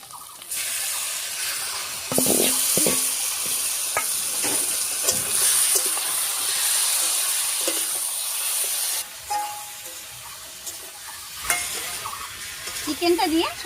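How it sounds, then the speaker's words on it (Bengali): Marinated chicken is stirred in a pan with fried onion and garlic, giving a loud, continuous sizzle and hiss. It then drops to a quieter crackle broken by scraping and clattering stirring sounds. "চিকেনটা দিয়ে সব কিছুর সঙ্গে খুব ভালো করে মিশিয়ে নিয়েছি।"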